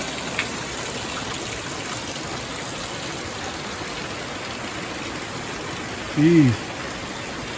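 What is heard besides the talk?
heavy rain at a campground during Tropical Storm Debby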